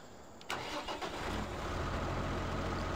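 A large tractor, the 150, starts up in Farming Simulator 17 with a sudden crank and catch, then settles into a loud, deep, steady idle, likely a six-cylinder, heard alone and close.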